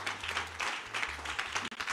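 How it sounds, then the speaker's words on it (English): Congregation clapping hands during a church service, a steady burst of applause-like claps at moderate distance with background music and a brief dip near the end. "Clap your hands."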